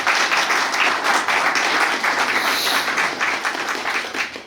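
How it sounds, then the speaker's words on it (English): Steady applause from a crowd at the opening of Magazine Beach in Cambridge, dense and sustained clapping that fades slightly toward the end. "Let's also give them a round of applause."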